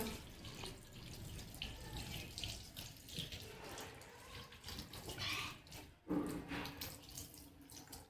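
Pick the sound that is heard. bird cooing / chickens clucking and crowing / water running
water running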